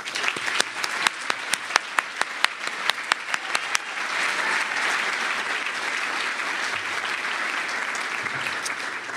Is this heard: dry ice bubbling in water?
no